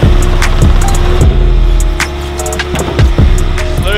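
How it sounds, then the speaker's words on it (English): A hobby-grade RC car drives around at close range, its electric motor whining in rising and falling bursts with repeated sharp clicks and bumps as it maneuvers. "Grown man's RC car."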